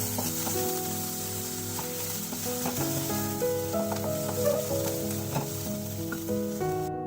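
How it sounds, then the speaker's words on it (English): Chopped onions sizzle steadily in a hot pan with garlic over high heat, a constant dense frying hiss with light stirring, while quiet background music plays underneath. "Now add the onions. Saute them on high heat for 30 seconds."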